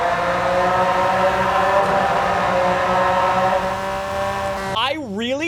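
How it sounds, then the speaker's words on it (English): A Ford GT with a turbocharged V6 in Forza Horizon 5 drones loudly under hard acceleration with a steady engine tone, close and continuous, before a brief pitch-swooping shift near the end. "Do you hear the turbos in there?"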